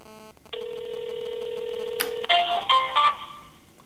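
A phone dials out to a Regal Pro preheater unit: short keypad tones, then a long steady electronic ring tone, ending in clicks and a brief recorded-sounding voice.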